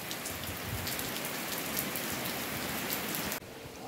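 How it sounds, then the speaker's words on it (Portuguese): During a windstorm, heavy rain pours onto surfaces as a dense, constant hiss of drops. It stays steady and close, then drops off abruptly near the end. "Presta atenção no vendaval que foi aqui."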